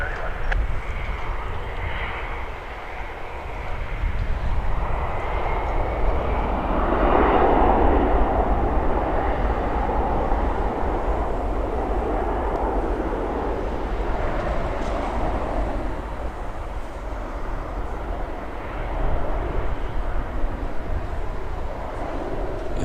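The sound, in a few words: airplane departing Toronto Pearson Airport at night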